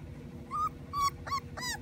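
Puppy whimpering in a few short, high, thin whines with brief pauses between them, heard over a constant low background hum.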